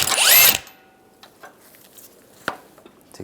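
A power tool, likely an impact gun with a 21mm socket, spins off the strut top nut on a 1998-2010 Volkswagen Beetle in one loud half-second burst, followed by faint clicks and taps.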